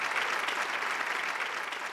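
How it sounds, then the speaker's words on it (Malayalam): Dense, steady clapping from a studio audience at a TV game show fills the space continuously, loud and close. "അതാണ് നല്ലൊരു കയ്യടി"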